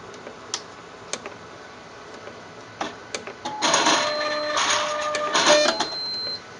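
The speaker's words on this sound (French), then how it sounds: "On va allumer aussi l'échantillonneur." A laboratory autosampler switches on with scattered sharp clicks and ticks, then a whirring motorised stretch with whines and tonal beeps as its mechanism moves, heard close in a quiet room.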